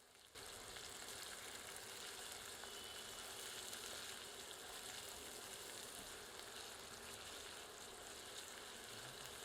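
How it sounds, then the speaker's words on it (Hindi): Crushed ginger, garlic and green chilli fry in a pan for methi aloo sabzi, giving a close, continuous hissing sizzle that starts abruptly and stays steady throughout, with no talking. "अब कुटे हुए अदरक, लहसुन और हरी मिर्च सम्मिलित करते हैं। इसे 2 मिनट भूनते हैं।"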